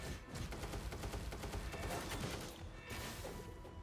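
Continuous, dense automatic gunfire from Punishing Gray Raven, loud and unbroken for the whole stretch, a rapid fusillade of shots with crashes and mechanical clatter mixed in.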